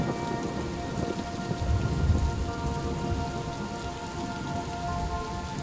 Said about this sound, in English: A little rain shower in my dream would be nice.